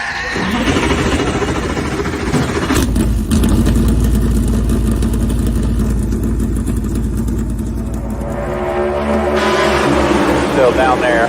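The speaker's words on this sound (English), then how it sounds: "gentlemen, start your engine!" A race car engine fires up and runs loud and close, a steady mid-pitched roar with rev changes, while voices talk over it throughout.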